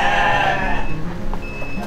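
A sheep bleats loudly and close at a livestock pen, one long wavering call followed by quieter animal and pen noise, with faint voices in the background.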